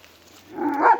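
A single short hunting dog bark or yelp rises at the end of a brief, quiet moment outdoors near trees, fairly close.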